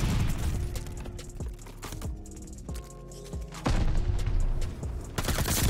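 An MP40 submachine gun fires in Call of Duty Vanguard, rapid bursts of close gunfire with sharp booming reports and game effects layered over a dense, loud mix.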